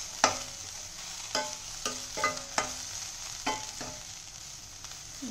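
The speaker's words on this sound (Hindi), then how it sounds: "मसालों को अच्छे से भून लें ताकि सब कच्चापन निकल जाए।" Chili powder, cumin powder and salt are stirred and roasted in a pan, giving a series of separate, close scraping and tapping spatula strokes over a faint, steady background hiss, with no talking.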